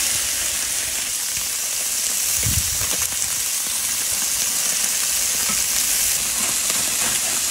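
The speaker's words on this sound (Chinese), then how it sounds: "今天中午搁外边这个锅煎鱼，整了这一小盘鱼。" Small fish fry in a large outdoor wok, giving a loud, dense, continuous sizzle with occasional stirring scrapes and no talk.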